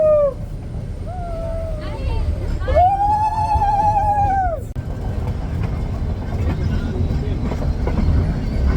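Nilgiri toy train departing a hill station on the Coonoor–Ooty line, a sharp horn blast followed by a steady low rumble of carriages moving off, with voices in the background.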